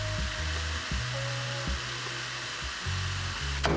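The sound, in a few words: ground meat frying in a pot for stew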